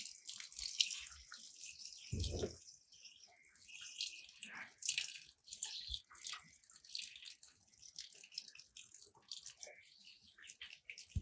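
Water is poured from a can onto ginger plants in containers outdoors, with intermittent splashing and trickling over soil, a single soft thump, and faint background sounds.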